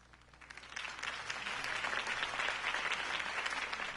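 A crowd applauds a political campaign speech by Harvey Dent in a Batman video game, steady full clapping that swells after the first second and holds at an even, moderately distant level throughout.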